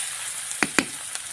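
A faint, steady sizzle of food frying in a pan carries on throughout, with two or three brief sharp clinks partway through and no talking.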